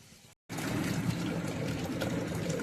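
Hot water is poured into a pan of fried potatoes and chillies for a homemade pork curry, a steady close rushing splash that starts abruptly after a short silence and runs on evenly.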